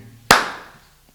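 A single sharp hand clap rings out alone, loud and close, with a short reverberant tail fading over about a second.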